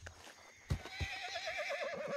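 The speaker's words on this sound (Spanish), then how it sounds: "qué mala fe tiene este caballo" A horse in the Red Dead Redemption II video game gives a loud, wavering neigh that rises and trembles for over a second, with a few hoof clops underneath and no talking.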